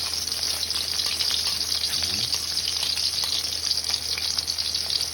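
Tuna sizzles steadily in a hot pan, a close, constant frying hiss that runs throughout with no voices.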